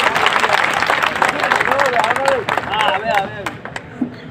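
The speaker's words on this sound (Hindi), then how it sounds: "एक बार जोरदार तालियां" Loud audience clapping at a Hindi kavi sammelan (poetry gathering) in Badod, Madhya Pradesh, mixed with crowd babble and cheering voices, lasting a few seconds.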